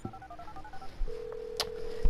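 A mobile phone in the video game GTA V is dialed, giving a quick run of electronic keypad tones followed by a steady ringing tone, clear and close with no talking.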